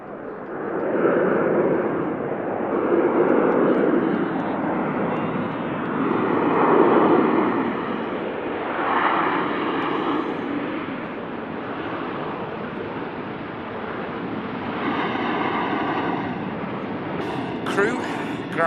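A Ryanair airliner arriving at Manchester Airport from Alicante, its loud, steady jet roar rising and swelling in waves throughout, with voices talking over it.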